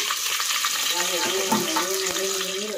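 Onion, curry leaves, fenugreek and cumin sizzle in hot oil for a fish curry tempering, a dense crackling hiss up close with a faint tonal hum underneath.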